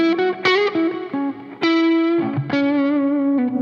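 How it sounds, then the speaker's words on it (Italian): Electric guitar from NOVO Guitars played through the neck pickup with a punchy, Fender-style attack; a short melodic phrase of sustained, slightly distorted single notes with sliding pitch, close and solo without talk. "con il pick-up per esempio al manico, va a spostarsi più sui suoni tipici Fender con quell'attacco là"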